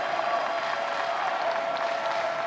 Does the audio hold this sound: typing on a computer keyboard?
no